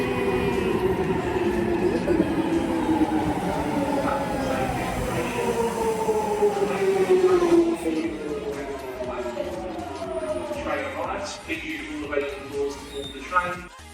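A train pulls into a UK station, its motors whining in falling tones as it slows, with brakes squealing and rattling near the end.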